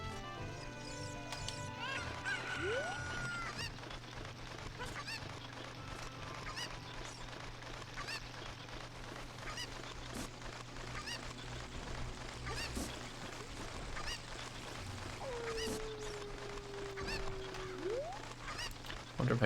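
Cuckoo chickens in Zelda: Ocarina of Time give short squawks and clucks scattered over a steady low game hum, moderately near, with a couple of rising and falling cries standing out from the background.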